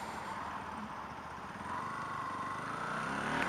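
A Bajaj Pulsar NS200 motorcycle's 200cc engine drones steadily while riding, with a constant rumble and wind noise, rising slightly partway through, with no unusual mechanical noises.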